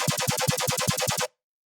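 Synthesized growl bass plays about ten rapid rhythmic pulses, loud and aggressive with a gritty, buzzing tone and a heavy low thump under each hit, stopping abruptly after just over a second.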